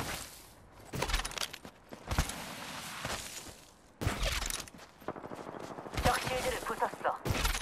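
Bursts of gunfire in an Apex Legends battle-royale match, loud sharp volleys arriving in clusters with brief pauses between them, mixed with mechanical clicks and game effects.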